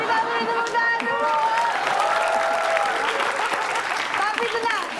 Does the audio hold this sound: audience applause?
yes